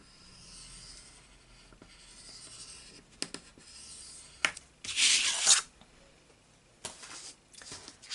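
Card is scored along a fold line for a pop-up card, with soft scraping strokes, light rubbing and a louder burst of paper friction near the middle, all close and quiet with no talking.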